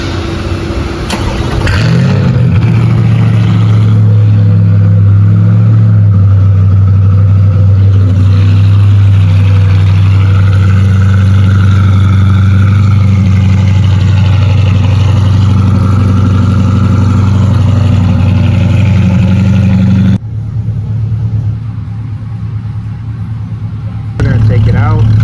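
C8 Corvette with high-flow catalytic converters on a warm start, a loud steady close idle and drone that holds for about twenty seconds before dropping off abruptly.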